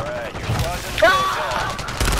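Video game gunfire crackles through a busy battle scene, bursts of shots mixed with game voices and effects, with talk over the top throughout.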